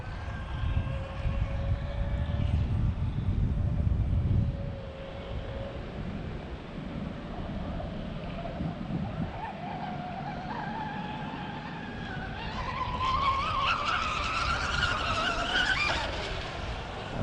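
The Zippkits JAE 33FE engine kit motor runs steadily as a loud, sustained hum that rises in pitch toward the end, as if the throttle is opened up.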